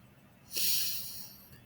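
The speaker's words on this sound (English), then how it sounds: "take a breath in through the nose" A single sharp breath drawn in through the nose, a close, airy inhale lasting under a second before fading into quiet room tone.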